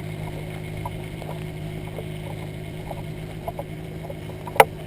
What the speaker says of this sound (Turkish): Evet motor çalıştı.